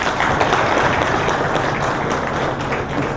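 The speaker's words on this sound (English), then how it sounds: "Round of applause for Paul." Dense, steady applause from a conference audience fills the space continuously, loud and uniform with no talking standing out.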